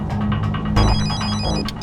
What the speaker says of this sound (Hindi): फोन नहीं उठाने का।